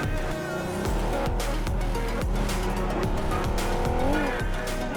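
Video game car driving fast across a bridge in a battle royale match, engine roaring steadily up close with tire squeals and skids, loud and unbroken throughout.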